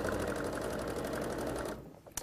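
A sewing machine runs steadily stitching a fabric seam, a loud, close, continuous mechanical whir with rapid needle rhythm that stops near the end, followed by a couple of faint clicks.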